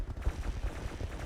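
Rapid, low booming bursts of gunfire from a mech in a BattleTech-style video game, a quick run of thumping shots close and fairly loud with no talking.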